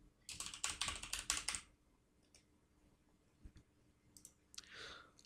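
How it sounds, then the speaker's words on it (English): Close, quiet typing on a computer keyboard starts as a quick burst of clicking keystrokes, then gives way to a few sparse taps and a soft rustle in a quiet room. "let's type in the designation"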